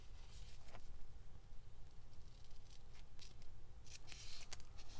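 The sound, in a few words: scissors fussy cutting paper for junk journal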